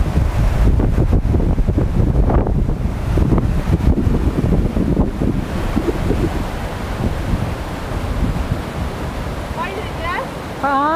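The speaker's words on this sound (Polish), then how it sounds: "Z boku szumi piękny potoczek." A rushing mountain stream in the Olczyska Valley of the Tatras churns continuously with strong wind buffeting the microphone, loud and close, with a few bird chirps near the end.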